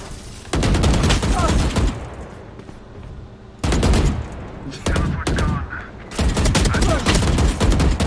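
Vandal rifle fire in the game Valorant, loud rapid bursts in three separate volleys with brief quieter gaps between them.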